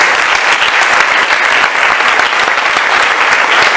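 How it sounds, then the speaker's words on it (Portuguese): A church congregation at a Sunday worship service claps in loud, dense, steady applause that fills the whole stretch without pause, with no speech over it. "Aqueles que creem, aplaude o Senhor Jesus, por favor"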